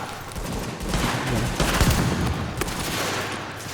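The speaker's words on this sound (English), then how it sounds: "Who the fuck was shooting?" Sustained gunfire in Tom Clancy's The Division, loud bursts of automatic shooting and rapid shots layered together continuously across the few seconds, with no talking over it.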